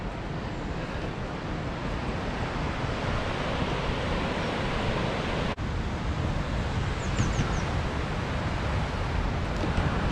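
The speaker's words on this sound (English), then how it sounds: "I've driven past a really dead nice waterfall" Waterfall in the Yorkshire Dales, a steady broadband rush of falling water that fills the whole clip, loud and continuous with a brief dip midway and no voices.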